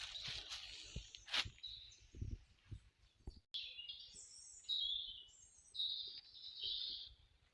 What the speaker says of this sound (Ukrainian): пташок спів, то взагалі неймовірний